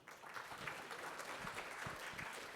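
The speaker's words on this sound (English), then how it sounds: "Let's all give a big round of applause" Steady audience applause at a Financial Times Future of the Car Summit, welcoming a speaker to the stage; dense, even clapping from a large crowd heard from a distance, no voices over it.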